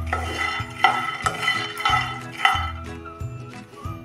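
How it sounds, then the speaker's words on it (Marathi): Peanuts roast on a low flame and are stirred constantly in a pan. A spatula scrapes and clinks against the metal in a regular rhythm, with light rattling and a faint sizzle, and there is no talking. "गॅसच्या लो फ्लेमवर 5 मिनिटं आपण सतत हलवून भाजल्यानंतर हे शेंगदाणे कसे चटचट उडायला लागले"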